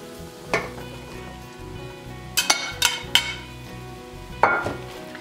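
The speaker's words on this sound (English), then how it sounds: "I'm gonna just let this cook until those mushrooms start to soften" Mushrooms sizzling in a pan, a steady frying hiss with several sharp clinks and scrapes of a utensil stirring against the pan.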